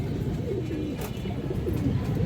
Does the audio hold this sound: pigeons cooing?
yes